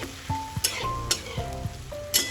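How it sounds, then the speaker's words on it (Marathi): Moong dal with asafoetida being stir-fried in a wok, sizzling under quick spoon scrapes and clinks against the metal, several short strokes close up, with no talking. "आणि ही मुगाची डाळ मी आता चांगली परतवून घेणार आहे"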